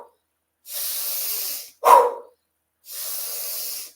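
Slow breathing exercise for releasing anger: two long, steady breaths pushed out through the mouth, close and airy, separated by a short voiced puff.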